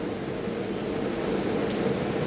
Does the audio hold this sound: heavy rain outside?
yes